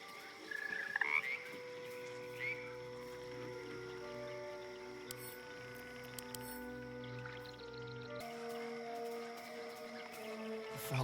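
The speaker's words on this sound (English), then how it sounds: "The frog's entire body shakes. It ribbits erratically as if in pain." A frog in a Baldur's Gate 3 swamp croaks and ribbits in erratic bursts over layered ambient game music, fairly quiet and with no voices.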